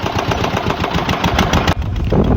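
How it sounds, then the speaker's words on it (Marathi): Engine of a borewell motor removal machine runs steadily and loud nearby, a continuous mechanical drone with a brief dip near the end. "चला मी तुम्हाला आता इंजिनचा पार्ट दाखवतो मित्रांनो. बघा, हे इंजिन आहे बघा."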